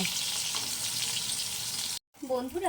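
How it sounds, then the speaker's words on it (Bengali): Eggplant slices frying in oil give off a steady, bright sizzle for about two seconds, then a short pause before a voice speaks. "আমি লাল লাল করে ভেজে নেব প্রত্যেকটা বেগুন"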